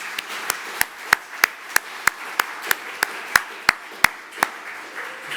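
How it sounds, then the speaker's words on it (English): About fifteen sharp, evenly spaced hand claps ring out one after another at a slow, steady beat in a conference hall, each crisp and distinct, with no talking over them. "I pause for a little round of applause for those people"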